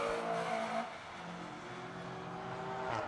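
A race car in a racing game finishes a lap at Buttonwillow, its engine droning steadily with shifting pitch as it passes, moderately loud, with no voices.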